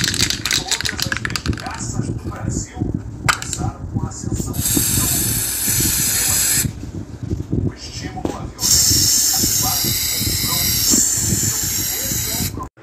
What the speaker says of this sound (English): spraying on the lockers